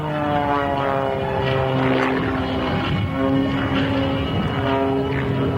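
A propeller airplane performing aerobatics at the 1993 South Weymouth Air Show drones loudly and continuously, its engine pitch swelling and shifting through knife-edge and inverted maneuvers nearby.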